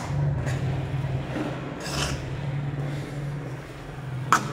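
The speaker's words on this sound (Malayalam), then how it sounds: "നമുക്കൊരു 4 മിനിറ്റ് ഇങ്ങനെ ഇളക്കി വേവിച്ചെടുക്കാം." A spatula scraping and stirring a yam and drumstick leaf stir-fry in a pan, with soft repeated rasping strokes over a low steady hum and a sharp tap near the end, no talking.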